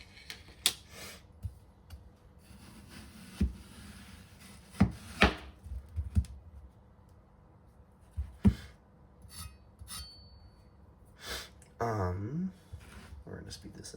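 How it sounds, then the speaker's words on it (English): A large kitchen knife chops an onion on a cutting board, with bacon already cooked nearby; the blows come as sharp, irregular knocks spread across the stretch, some quiet and some louder, with a few softer scrapes between them and light talk. "we're going to get this onion cut"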